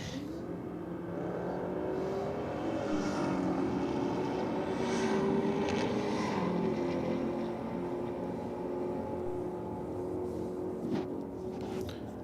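Ford Falcon and Audi cars drag racing side by side, a loud sustained engine roar with rising revving tones that builds and holds steady across the run, no talking.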